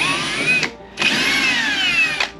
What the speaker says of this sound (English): I flip it over with my drill and my wrench and I run these bolts out of here